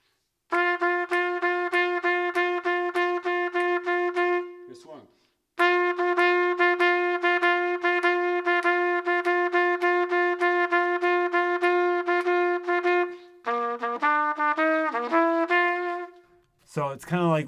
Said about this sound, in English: a repeated eighth note swung and straight